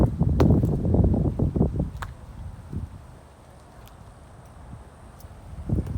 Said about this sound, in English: Sorry it's a little windy here today.